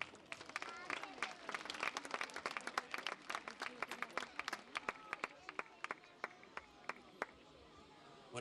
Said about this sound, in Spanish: Un fuerte aplauso para Miguel Ángel.